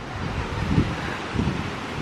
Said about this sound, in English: The sea's a bit choppy at the moment because it was a bit windy this afternoon.